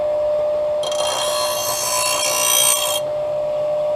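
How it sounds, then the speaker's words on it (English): A John Deere mower blade gets a quick bottom grind, a steady bright rasping whine lasting about two seconds over a constant background hum, close and loud, then stopping abruptly. "Quick little grind."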